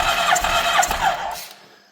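A broken Honda engine cranking over on a compression test of cylinder 2 with the throttle held open, a close, loud, rhythmic starter churn with pulsing beats that stops abruptly after a second and a half.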